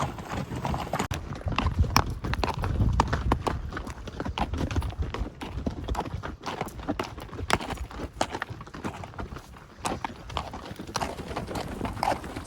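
Horses and pack mules walk a backcountry trail into an elk hunting camp, hooves clip-clopping in an uneven steady rhythm close by, with occasional louder strikes and faint rustling between steps.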